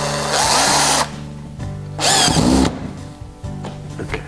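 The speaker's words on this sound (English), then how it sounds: "The first thing is to bolt down the top part." A power drill bolts down the top section of an industrial-style shelf in two loud, close bursts of whirring with a short quiet gap between, then a fainter clatter at the end.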